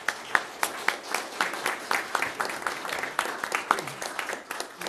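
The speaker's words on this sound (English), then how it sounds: "Let's give the speakers a round of applause" An audience at a Carol Stream town meeting applauds the speakers at the close of the evening. Individual claps are crisp and distinct in a rhythmic patter, moderately near and fairly quiet, with no other sound standing out.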